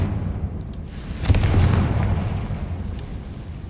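Spell blast from the Confringo curse in Hogwarts Legacy: a single fiery boom bursts out about a third of the way in over a steady rumbling game soundscape, then a lingering low roar fades beneath.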